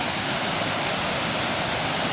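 A fast-flowing burn rushes past in a loud, dense, unbroken roar of water, close and steady throughout with no voices.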